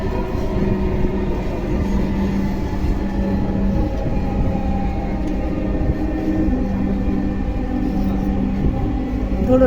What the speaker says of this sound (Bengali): This train is bound for Motijheel.